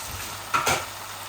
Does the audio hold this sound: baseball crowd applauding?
no